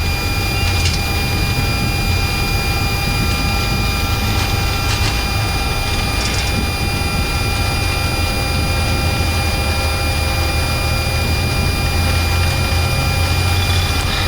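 Airbus A330 jet engines roar at takeoff thrust, heard from the cockpit as a loud, unbroken broadband rush with steady tonal whines layered on top, with no talk.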